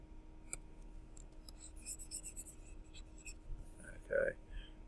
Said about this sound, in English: Let me write it in that form.